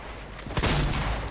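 Gunfire in the Fortnite video game: a short burst of muffled shots over a steady background of game sound, lasting about a second.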